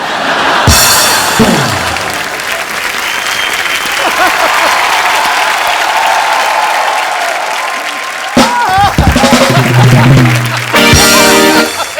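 A studio audience at a Kapil Sharma Show comedy taping claps loudly and steadily for several seconds. Near the end there are voices and short musical stings.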